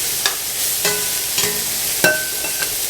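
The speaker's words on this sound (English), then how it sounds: "So we'll just kind of break these onions up here." Onions broken up and stirred in a hot pan alongside pork chops for smothered pork chops, a constant close sizzle punctuated by several sharp utensil scrapes and taps against the pan.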